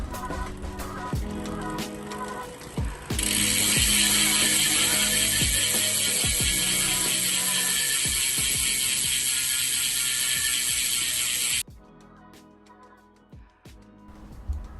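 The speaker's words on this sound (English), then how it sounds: "The free hub is nice and loud as well, for those who love themselves a noisy hub." Loud, rapid freehub ratchet clicking from a coasting cheap Chinese bicycle wheel, a dense buzzing whir that runs steadily for several seconds before cutting off abruptly.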